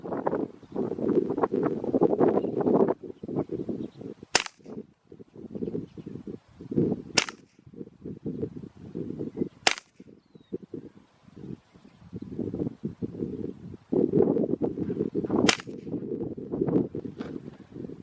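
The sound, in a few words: suppressed .22LR rifle shots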